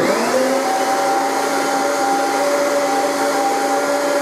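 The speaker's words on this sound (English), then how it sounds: "Now I'm going to vacuum the screens, make them look better." A vacuum cleaner runs loudly and continuously at close range while cleaning kitchen window screens, its motor whine spinning up and then holding steady.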